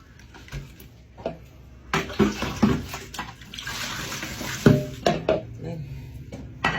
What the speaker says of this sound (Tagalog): Papa naman kapag naguhugas ng plato.